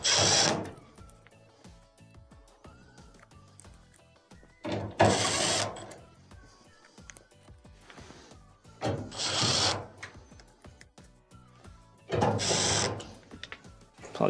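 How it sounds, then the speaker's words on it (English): Ratchet tool reinstalling screws on a clothes dryer during a repair for noise from the blower wheel, with quiet clicking and faint mechanical ticks between several louder whirring bursts. "Let's go ahead and reinstall our screws."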